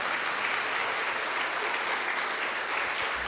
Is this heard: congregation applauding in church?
yes